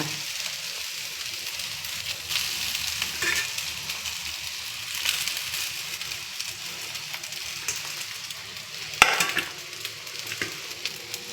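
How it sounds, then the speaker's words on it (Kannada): Rice stirred into onion and green chili sizzling in a pan gives a steady close frying hiss with soft scraping of stirring, then a sharp clink near the end. "ಈಗ ನಾನು ಅನ್ನನ ಅದಕ್ಕೆ ಹಾಕ್ಬಿಟ್ಟು ಕಲಿಸ್ತೀನಿ"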